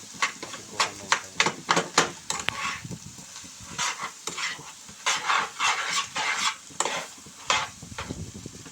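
Egg noodles with carrot are tossed in a pan, making a series of quick, close scraping and clattering strokes in an uneven rhythm over a faint sizzle.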